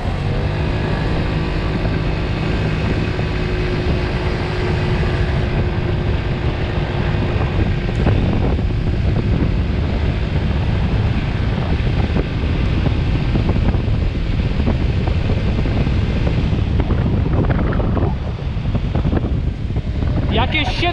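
A 50cc scooter fitted with an 80cc kit rides along at speed, its engine droning continuously beneath heavy wind buffeting on the microphone, with a voice talking over the noise.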